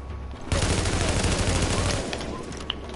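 Sustained automatic gunfire in The Division video game erupts suddenly and rattles loudly for about a second and a half, then tapers into a quieter burst with a single late shot.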